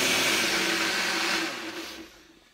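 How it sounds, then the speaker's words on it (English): A blender whirs loudly at close range while blending smoothies, a steady high-pitched motor roar that winds down and fades toward the end. "Now that our smoothies are blended"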